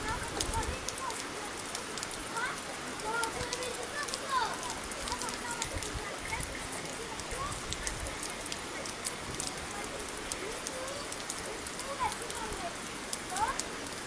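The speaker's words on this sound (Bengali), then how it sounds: "বৃষ্টি হচ্ছে, কন্টিনিউ বৃষ্টি পড়তেছে" Steady, continuous rain falls in Bandarban, a dense even hiss of drops on surfaces lasting throughout at moderate level, with no voices.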